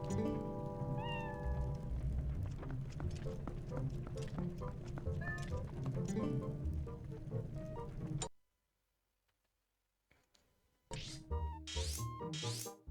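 A cat meows in The Legend of Zelda: Twilight Princess, short game-style mews heard over steady background music, then a brief silence and a few rising, bright mewing calls close by.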